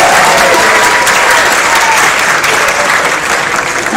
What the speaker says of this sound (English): And give an applause for the first place.